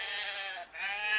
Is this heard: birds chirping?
no